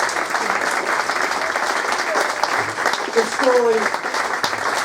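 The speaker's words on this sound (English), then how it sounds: "Ladies and gentlemen, please give me a huge round of applause for these two" An audience at a live local event applauds in a steady, continuous round, with a voice talking over the clapping and brief tonal sounds near the end.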